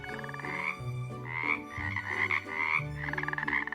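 Loud, close frog croaks repeat in a steady, rhythmic series, each a rough, buzzy call with no voices present.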